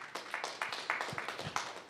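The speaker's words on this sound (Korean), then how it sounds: "여러분들 큰 박수 부탁드립니다." Audience applause at a Korean radio station scholarship quiz event, a scattered, fairly faint patter of individual claps in an uneven rhythm, heard from some distance and thin rather than full.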